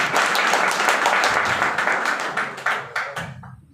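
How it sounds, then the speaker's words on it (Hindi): A seminar crowd bursts into loud, energetic applause for a speaker, dense clapping that holds steady and then fades into a few scattered claps before stopping. "जोरदार तालियां होनी चाहिए सर के लिए"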